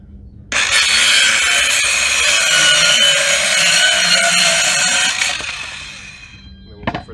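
A cheap battery-powered hand saw cuts through a strip of plywood, a loud, steady whining buzz that starts abruptly, holds for about five seconds, then winds down, followed by a brief knock.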